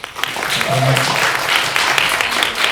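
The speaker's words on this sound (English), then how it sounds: "Can we get a bit of a round of applause, please?" A crowd claps in steady, dense applause that fills the space, with a voice briefly audible underneath.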